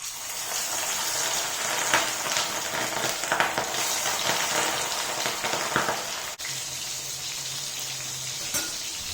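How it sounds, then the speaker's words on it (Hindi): Fish slides into very hot oil for a Mithila-style fish curry, giving a loud, steady sizzle and crackle that runs close and continuous throughout, with no talking. "अब हम एकरा में माछ छाइन लेबे।"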